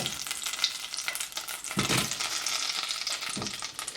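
Butter melts in a pan over the flame while making homemade desi ghee, giving a continuous soft sizzle and crackle with a few louder bubbling swells, close up and with no talking.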